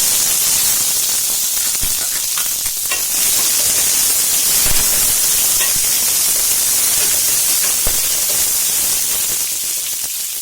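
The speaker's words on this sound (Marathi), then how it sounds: "मिरच्या चांगल्या परतल्यानंतर त्यात हा कांदा घालायचा." Onion sautéing in a pan with reddened garlic and two chillies, a dense steady hiss of sizzling oil with occasional light clicks of stirring, close and constant.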